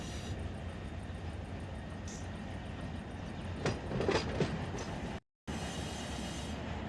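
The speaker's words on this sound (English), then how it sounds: "And here comes the last of the well cars." Freight train well cars roll past in the Run 8 Train Simulator III game, a continuous close rumble with rhythmic wheel clatter and brief squeals, heard alone with no talk.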